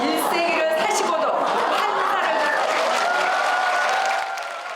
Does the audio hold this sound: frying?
no